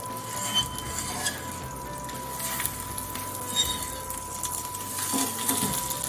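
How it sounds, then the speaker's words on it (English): Fish sautéing top side down in a pan makes a steady sizzle with occasional clinks of cookware and utensil scrapes, with no voices. "sauteing it top side down for a few minutes"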